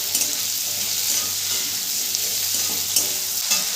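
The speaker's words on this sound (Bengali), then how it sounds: "পেঁয়াজটা একটু হাই ফ্লেমে ভেজে নেব।" Sliced onion and capsicum fry on a high flame for chili chicken, producing a loud, constant hissing sizzle with occasional stirring scrapes and no talk.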